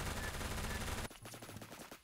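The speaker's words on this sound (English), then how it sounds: "What if I just like try hip firing with it?" MP7 hip fire in the Phantom Forces video game: a dense, loud burst of rapid automatic gunfire for about a second, then quieter, scattered shots and game noise.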